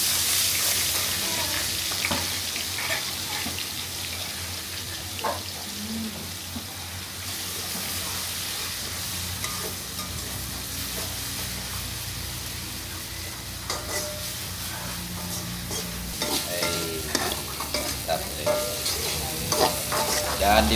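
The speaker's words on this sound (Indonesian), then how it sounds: "Wah, suara minyaknya nih. Udah siap, nah. Udah panas minyaknya." Hot oil sizzles steadily in a pan over a village stove, a loud continuous crackle and hiss with scattered scraping and clinks of utensils throughout.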